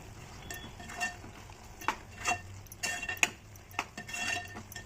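A metal spoon scrapes and clinks against a pan while stirring masala for mushroom gravy, in irregular strokes, a busy stirring sound with a low background hum.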